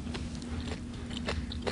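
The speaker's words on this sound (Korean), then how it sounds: "김치가 왜 이렇게 아삭아삭하죠?" Crunchy kimchi from a kimchi stew, chewed close to the mic in a restaurant, gives a rapid run of crisp, wet bites and crunches with no talk over it.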